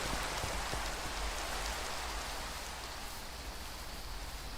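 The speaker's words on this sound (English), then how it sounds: "I can't handle that rain, man." Steady rain falls in the video game Minecraft, an even hiss of many drops that stays loud and constant throughout with no pauses.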